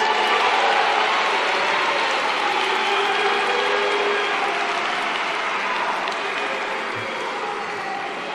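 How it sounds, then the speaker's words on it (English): Steady applause from a large crowd fills a formal state address, honouring the class of 2024 learners, dense and unbroken throughout, fading only slightly near the end. "And let us give them a big round of applause."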